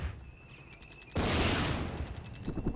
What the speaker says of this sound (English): It's plenty of firing going on.